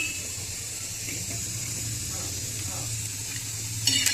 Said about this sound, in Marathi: कोथिंबीर सुद्धा आपण यामध्येच भाजून घेणार आहोत